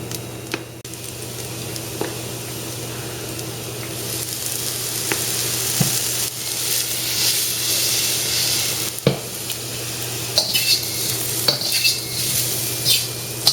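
Crispy tofu sizzles steadily in oil in a pan while being stirred, with a constant frying hiss and occasional scraping and clinking of a utensil against the pan.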